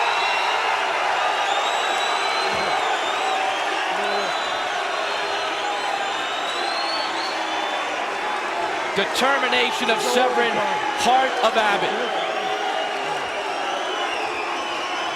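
Arena crowd roaring through the whole stretch at the end of the Tank Abbott vs Dan Severn MMA semifinal, a dense wall of cheers and boos with louder swells, while an announcer talks over it.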